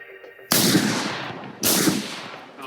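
Two loud, sharp rifle shots without a suppressor crack about a second apart at close range, each trailing off into a rolling echo.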